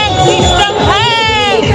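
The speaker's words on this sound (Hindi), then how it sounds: "सही में का खतरनाक भीड़ है" A dense crowd at a Pola bull festival ground in Chhattisgarh, a loud close babble of many voices and shouts filling the scene with people talking over it.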